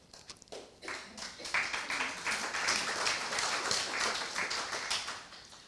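An audience claps at a poetry reading of James Thomson's The Seasons, starting as scattered taps and building into several seconds of steady, close, moderately loud applause.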